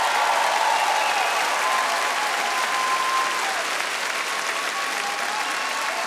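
Steady, dense applause fills the studio of a televised Ukrainian-Russian comedy competition show, loud and continuous for the whole stretch with a faint crowd murmur beneath.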